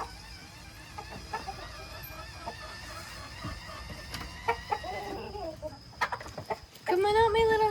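Chickens cluck and murmur close by, with scattered sharp calls and a louder squawking burst near the end over faint background noise.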